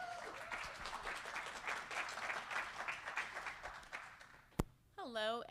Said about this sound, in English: So could we have a round of applause to welcome her to the stage?